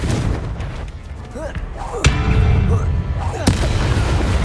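Confringo fire spell blasts in the Hogwarts Legacy video game, two sharp loud explosive cracks about a second and a half apart over a rumbling battle din, with a voice shouting during the fight.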